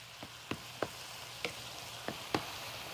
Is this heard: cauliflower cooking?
yes